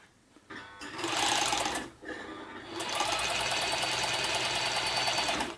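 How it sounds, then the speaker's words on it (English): A Janome Combi two-thread overlocker stitches in fast, even mechanical runs, with a brief pause between bursts. It sounds close and busy, with a rapid whirring chatter. "The overlocker is extremely quiet as well."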